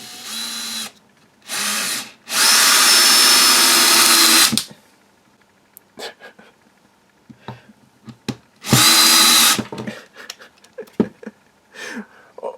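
Bosch GSB 18V-28 cordless combi drill driving screws into wood, loud whirring bursts of varying length including a long sustained run, separated by quiet stretches with small handling clicks and knocks.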